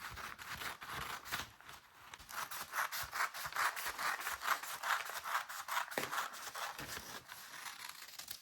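Scissors snip through corset fabric along a pattern, giving quiet, rhythmic rasping cuts close up with short pauses between strokes.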